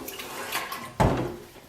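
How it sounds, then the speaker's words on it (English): Clean water flushes through a gravity water filter: a soft trickling wash, then a sudden louder gush of water that gradually fades, with no talking. "cleaner water and then just let it flush out."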